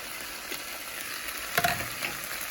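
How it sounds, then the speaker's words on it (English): Ground turkey picadillo sizzles softly in a pan as it is stirred, a faint steady fry with a short burst of scraping and clatter near the middle. "I stir it all up and cook it down a little bit more"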